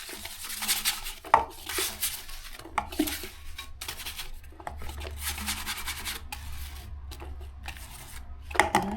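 A toilet bowl is scrubbed with a brush during cleaning with Duck Fresh Boost Marine Wave foam rimblocks, giving repeated rough rubbing and scraping strokes close to the listener, with a few sharper knocks against the porcelain and no talking.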